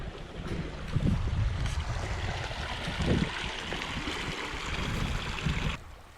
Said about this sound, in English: Little river coming down.